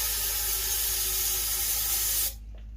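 Aerosol starting spray hisses loudly and steadily into the intake of an International 300 Utility tractor engine, a continuous close spray lasting about two seconds before cutting off abruptly.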